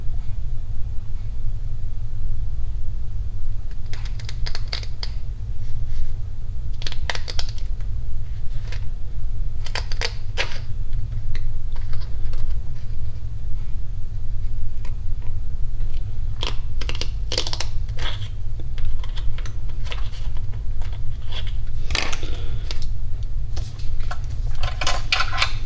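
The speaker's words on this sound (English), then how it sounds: "take some sharp scissors and I'll cut this abalone" Sharp scissors snip through thin abalone veneer in short bursts of crisp crunchy cuts, clustered and irregular, over a constant loud low hum with no talk.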